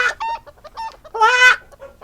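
A chicken clucks close and loud in a quick series of short clucks, then lets out one longer squawking cry before a few more clucks.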